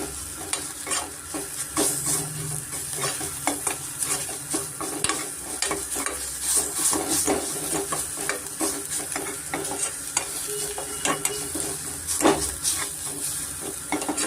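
Ginger garlic paste sizzles steadily in hot oil in a pan for a banana stem kootu, with repeated scraping stirs from a spoon running throughout, close and continuous.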